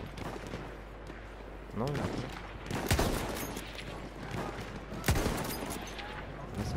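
Gunfire in the video game Battlefield 1, several sharp shots and bursts scattered across the scene at moderate distance, with a voice speaking briefly between them.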